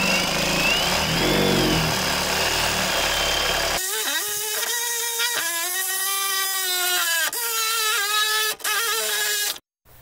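A Milwaukee M18 Fuel Sawzall reciprocating saw cuts through 3-inch service weight cast iron pipe, a loud grinding rasp at first that gives way to a steady, high motor whine with short dips before it stops abruptly.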